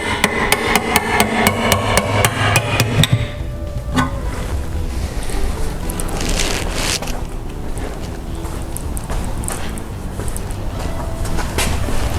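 Sharp metallic hammer blows strike a 1958 Ford Fairlane's 429/460 oil pan to pop the gasket loose, a quick rhythmic run of about a dozen close, loud hits at first, then scraping, clanking workshop noise.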